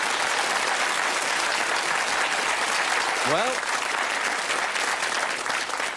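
Studio audience applause on a British darts game show, loud and steady throughout, with a voice briefly speaking over it partway through.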